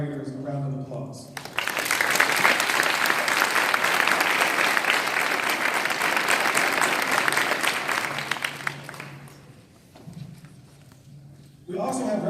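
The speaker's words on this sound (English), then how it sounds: "Please join me in giving all of our supporters and collaborators a round of applause." An audience at a university lecture event gives a full round of applause, loud sustained clapping that swells in after a voice, then fades as a speaker resumes talking.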